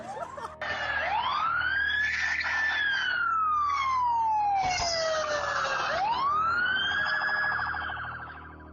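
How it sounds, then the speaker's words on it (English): A police car siren wails during a nighttime pursuit in Indiana, loud and close, sweeping up and down in long rising and falling tones with no voices over it. "This video, captured in Indiana, depicts a frantic police car pursuit taking place during the nighttime hours."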